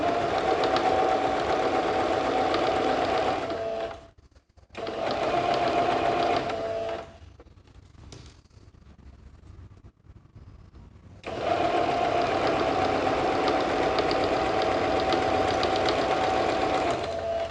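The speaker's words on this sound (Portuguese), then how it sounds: "direitinho e vou costurar" A sewing machine stitches a fabric organizer bag in two long loud bursts with a steady motor whir, separated by a brief stop and a quieter pause in the middle.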